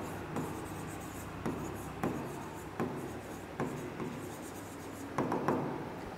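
Chalk or marker scratches across a classroom board in short, separate strokes with pauses between them, close and fairly quiet, with no talking over it.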